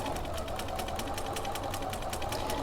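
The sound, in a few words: sewing machine back stitching raw edge applique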